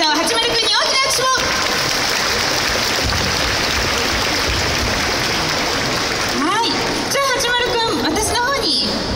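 Sustained, dense applause from an outdoor ceremony crowd at the Nagoya festival opening, greeting the city mascot Hachimaru-kun, loud and steady throughout with people speaking over it at the start and end.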